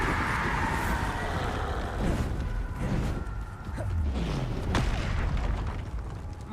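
A Bombarda blasting spell goes off in the Hogwarts Legacy video game, bringing deep booming blasts and rumbling bursts over dense, continuous game combat noise.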